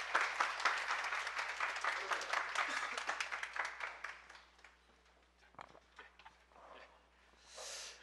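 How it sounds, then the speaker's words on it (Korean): Lecture audience applauding at a special police English exam prep talk, a burst of many hands clapping that fades over several seconds, with some faint voices and noise as it dies down. "박수 한번 쳐주세요."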